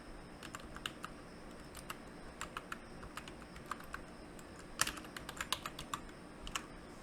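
Computer keyboard typing a card title in Power BI software: bursts of quiet, crisp key clicks at an irregular pace, with a louder flurry of keystrokes near the middle, alone without speech.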